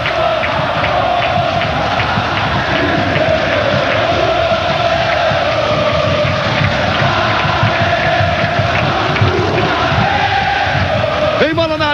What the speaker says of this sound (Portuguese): E canta feliz a torcida do Vasco.